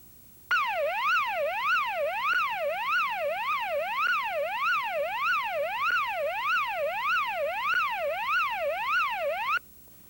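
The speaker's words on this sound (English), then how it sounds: "The automatic fire alarm system has been activated onto the 10th floor." A 1983 Wheelock Voice Link fire alarm system sounds its evacuation tone for a building floor. A loud electronic tone sweeps steadily up and down in an even, rapid rhythm for about nine seconds, then cuts off.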